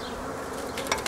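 Honey bees at a hive in an apiary give a steady, close, dense buzzing drone, with a few sharper clicks near the end.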